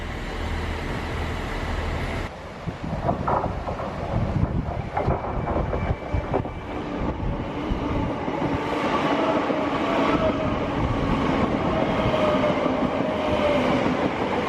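A Chiltern Railways Class 165 diesel unit passes at West Ealing, a loud continuous rumble with wheel noise building and holding close by for the whole stretch, no voices.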